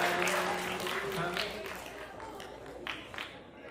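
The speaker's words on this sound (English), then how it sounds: "Clap it up for the panelists, man." Audience applause for the panelists at a middle school youth summit, a steady wash of clapping that fades slightly over a few seconds, with voices talking underneath.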